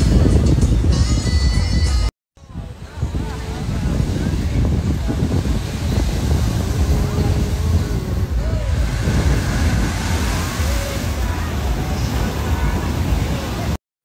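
Sea waves and wind buffeting the microphone outside a seaside restaurant, a continuous rushing roar close up, briefly cut off by a short gap near the start.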